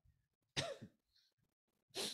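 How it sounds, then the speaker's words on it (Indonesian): A man with a cold coughs twice, two sharp close bursts about a second and a half apart, with faint breathing and small throat noises between them in a quiet room. "Sambil pilek-pilek, sambil batuk-batuk."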